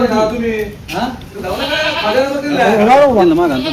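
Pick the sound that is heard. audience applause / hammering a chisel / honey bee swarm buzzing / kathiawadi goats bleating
kathiawadi goats bleating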